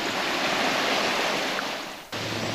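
Continuous rushing water flows loudly and steadily, a broad hiss of a small stream close by, cutting off briefly near the end before resuming.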